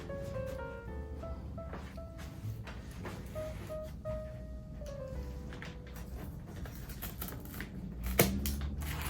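Leaves are snipped from a houseplant, giving a quick series of sharp cutting clicks and light leafy rustles, close by, over a soft tonal background.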